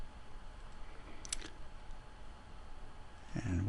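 A few faint, sharp computer mouse clicks during a copy-and-paste, close by over a low background hum, with a slightly louder rustle at the end.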